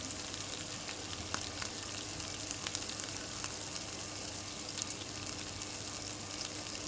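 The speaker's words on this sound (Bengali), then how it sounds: "আমি চিংড়ি মাছটাকে একটু লালচে করে ভেজে" Shrimp fry in a pan until reddish, a soft continuous sizzle with faint crackles, steady and fairly quiet throughout, with no voices.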